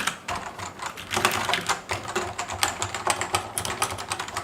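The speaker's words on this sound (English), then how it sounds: "Now this is the Cherry MX brown switch." Rapid typing on a Cherry MX Brown mechanical keyboard switch in a Cooler Master NovaTouch TKL, a dense run of close, crisp key clacks with uneven rhythm and no voices.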